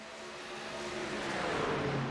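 At Atlanta, race trucks in a truck series race roar around the track in a continuous engine drone that swells gradually louder, as though the pack is drawing nearer.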